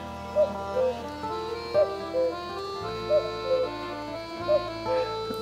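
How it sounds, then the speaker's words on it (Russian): A cuckoo calls again and again in a steady two-note pattern, fairly close, over sustained droning tones in the background. "Ну и сколько ж мне осталось, уважаемая кукушка?"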